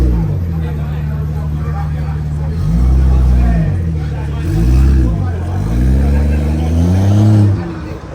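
A supercharged Kawasaki Ninja ZH2 warms up from cold at a Sunday night car meet, idling loud and close, then blipped in three or four rising revs, with crowd chatter around it.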